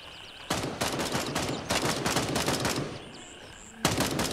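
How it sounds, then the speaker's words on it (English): Rapid bursts of automatic gunfire in Gray Zone Warfare fire through a bush, loud and close. Several sustained strings of shots are broken by short pauses, and a final burst starts near the end. "Dude, you're just shooting through the bush, and the bush is moving as you shoot through it."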